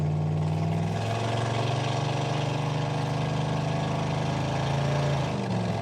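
A Camaro engine idling rough with a carburetor problem, a loud continuous low rumble with slight pitch shifts, no voices.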